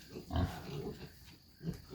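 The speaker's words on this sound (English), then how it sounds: "these pigs here are large breed pigs" Large breed pigs grunting nearby, low rough snorts in a couple of short bursts, soft and close with no one speaking.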